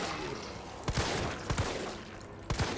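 Gunfire in Resident Evil 3 Remake comes as three separate sharp bursts of shots, each a quick double crack, spaced about a second apart over a quiet game background.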